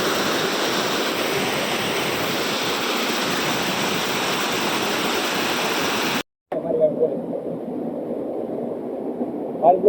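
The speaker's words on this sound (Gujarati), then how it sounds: "આ ધોધમાં આવી જાય અમારો ભાઈ નાવા" A waterfall in the Gir forest roars steadily and loudly for several seconds, then cuts abruptly to a quieter background where a voice speaks.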